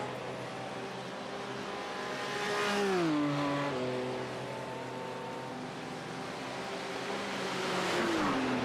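Two BMW race cars in a digital Nürburgring endurance race in a video game: engine whine holds steady, then drops and rises again through shifts, loud and continuous with no voices.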